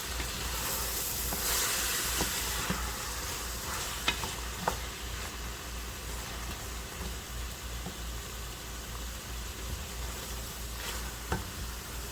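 Chicken sizzles and fries steadily in a hot pan, a continuous hiss with a few scattered pops and utensil clicks, fairly quiet and uninterrupted.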